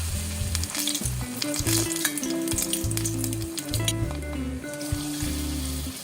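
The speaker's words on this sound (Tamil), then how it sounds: "நல்ல மாவில் ஒரு தோய் துவைச்சிட்டு அதை எடுத்து எண்ணெயில் சேர்த்துடலாம்" Batter-coated cauliflower pieces frying in hot oil give a loud, continuous close-up sizzle and bubbling, steady throughout with no voices.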